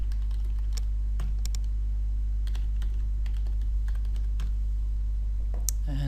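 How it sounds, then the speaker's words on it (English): Steady, close clicking of keys on a computer keyboard as login credentials are entered, with irregular bursts of keystrokes over a constant low hum and no talking. "and then I'll just type in credentials."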